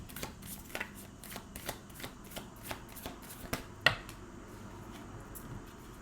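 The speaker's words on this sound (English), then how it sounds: "let's pull an advice card to close" Tarot advice cards are shuffled by hand in a quiet room, giving soft repeated riffling flicks at a loose, irregular rhythm with one sharper snap partway through.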